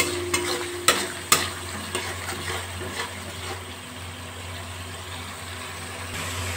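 Spices frying in oil in a pan over a low gas flame, stirred with a few sharp scrapes early on, then a steady soft sizzle under a low hum, close and moderately loud with no talking.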